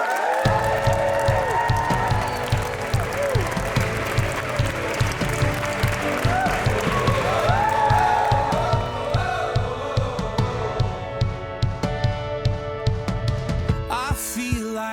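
Wedding guests burst into sustained applause and cheering for the newly introduced couple, a loud crowd roar with whoops, over an upbeat pop song playing with a steady beat.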